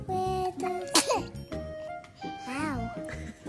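A single sharp sneeze bursts out about a second in, cutting through ongoing sung voices at an awkward moment.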